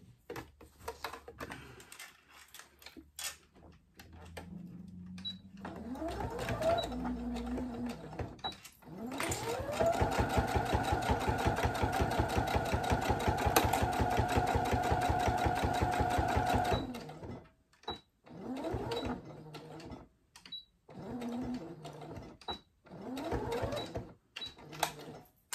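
A sewing machine stitches a fabric cake bag with a loud, steady rapid whirr that holds for several seconds, framed by shorter bursts of stitching and quiet handling of the material.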